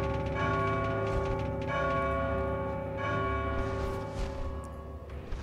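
Church bells struck in God of War 2, the deep tolling tones ringing loudly and sustaining with long overlapping decays throughout.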